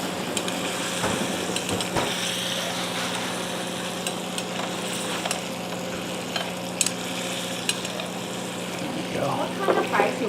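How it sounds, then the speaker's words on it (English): Steak searing in a pan with mushroom sauce, a steady sizzle and crackle running throughout with occasional scrapes and clinks of stirring, some quiet voices in the background. "Make sure there's a nice sear going on."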